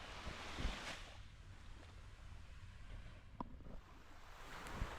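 Surf washing onto a long sandy beach in Cyprus on a calm day, a soft steady wash with a few gentle breaking swells and light wind buffeting the microphone, heard alone with no talk.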